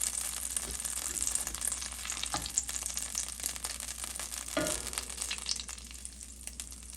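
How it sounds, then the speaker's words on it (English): Butter sizzles and crackles in a frying pan over medium-high heat, a close, continuous frying hiss with a few louder spits and stirring clicks. "You can hear by the sizzle it's a little bit too high"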